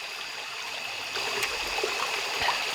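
A creek flows steadily in a remote Alabama woodland, its close, continuous rushing and trickling water holding an even level throughout with small splashes layered on top and no voices.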